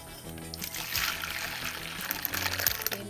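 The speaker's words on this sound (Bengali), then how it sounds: "ডালের জলটা ঢেলে রেখেছিলাম দিয়ে দেবো ডালটা ঢেলে নেব" Water saved from cooking dal is poured into a pan for amra dal, a soft, close trickling and splashing stream that swells briefly near the end, with no speech.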